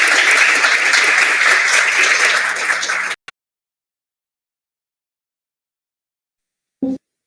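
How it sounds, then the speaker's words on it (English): Audience at the Brazilian Symposium on Formal Methods (SBMF) applauding a speaker, a dense, steady roar of clapping for about three seconds that cuts off abruptly, followed by silence and a brief thump near the end. "Let's give some applause to Gustavo for this."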